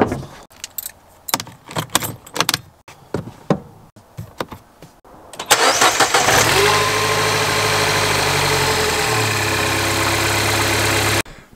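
A Mini Cooper JCW R56, just back from a cam cover replacement for bad oil leaks, is entered with keys jangling and knocks, then the engine cranks, catches with a loud burst, settles, and idles steadily until cut off.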